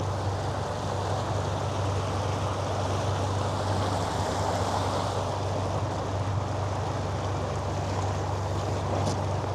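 A steady motorboat engine hum with continuous water rushing past the hull, broadband and constant throughout with no voices.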